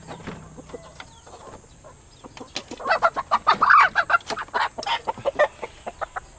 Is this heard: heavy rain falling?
no